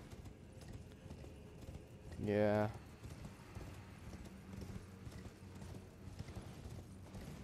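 A horse in the video game Elden Ring gives a single short neigh or whinny near the start, over quiet game ambience, with a brief spoken word.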